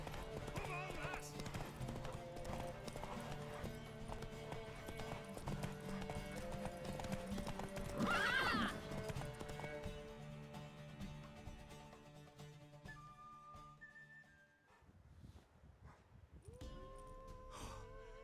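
Horse hooves clip-clop at a steady gallop through a race in the video game The Witcher 3, with a brief whinny midway, under game music and voices speaking throughout.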